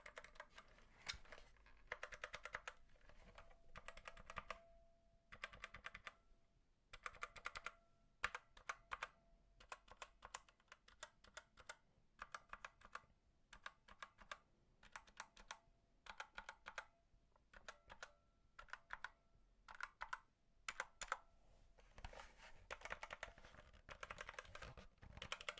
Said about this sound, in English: This is the trusted keyboard I use when I'm not using my laptop one.